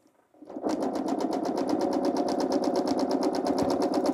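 A domestic sewing machine quilting a large blanket starts up after a brief quiet moment, then runs at a fast, steady stitching rhythm of evenly spaced mechanical clicks, close and clear.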